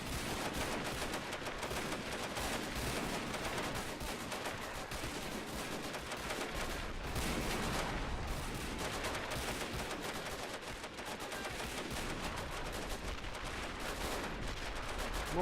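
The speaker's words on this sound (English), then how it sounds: "So the enemy are actually shelling" Enemy shelling and gunfire fill a WWI Western Front battle game, with dense, continuous crackling rifle and machine-gun fire and booming mortar blasts, loud and unbroken throughout.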